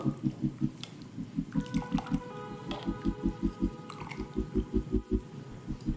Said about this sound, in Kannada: ಒಂದು 10 ನಿಮಿಷ ಚೆನ್ನಾಗಿ ಕುದಿಯೋದಕ್ಕೆ ಬಿಡಬೇಕು